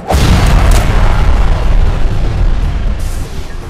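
Simulated rocket launch in a physics demonstration, a loud sustained roaring blast from start to finish, with a sharp burst at the onset and a dense, rumbling rush throughout.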